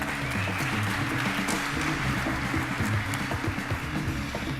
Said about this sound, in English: while the applause is dying down